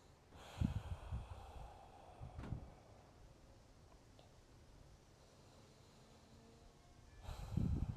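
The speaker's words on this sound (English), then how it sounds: "Breathing here." Audible breaths during a vinyasa yoga flow, with a couple of strong exhales near the start and another at the end, separated by quiet room tone.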